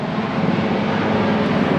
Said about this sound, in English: there is a helicopter